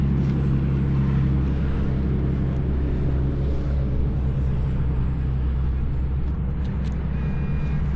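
Heavy trucks rumble past a park in a steady, loud, low roar that fills the whole stretch without pause, with faint higher hiss and no clear talk.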